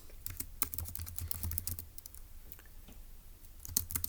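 Quick, irregular keystrokes on a computer keyboard as notes are typed up during a logic puzzle, with clustered clicks near and clear over a soft low hum.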